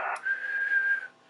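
A Yaesu FT-891 radio transceiver with an ATU-100 antenna tuner gives a short bright tuning whistle on frequency: a single steady tone of about one second, clean and close, after a brief burst of noise.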